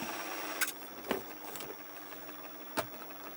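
A Coleco Adam computer's printer running nearby, a steady mechanical whir with a few sharp clacks of the print mechanism striking at irregular intervals.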